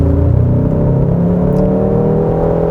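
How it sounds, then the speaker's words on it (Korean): A Hyundai Sonata N Line with a 2.5 turbo engine pulls hard through successive upshifts, its loud, close engine drone rising and shifting in pitch with no talk. "3단에서 4단, 5단, 6단으로 지금 업시프트가 되었는데요"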